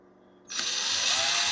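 A power drill starts up and runs steadily, driving a screw into 7.5 gauge ride-on railroad track, with a high whining buzz that begins after a short quiet moment.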